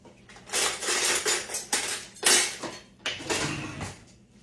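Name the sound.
getting a bowl and spoon out, dishes and cutlery clinking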